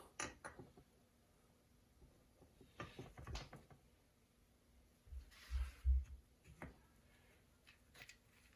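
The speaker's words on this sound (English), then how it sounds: "let's see if we can tighten the nut to the same position as before" A nut is tightened on a 1975 Triumph TR6, heard as quiet, scattered ratchet clicks and metallic taps, with a heavier clunking burst midway, close up in an otherwise still garage.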